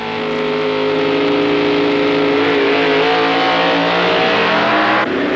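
Supercharged drag racing cars at the 1964 Indy Nationals, George Montgomery's A-Gas car against Dave Strickler's, a loud sustained engine roar and rising whine filling the whole stretch before cutting off abruptly near the end.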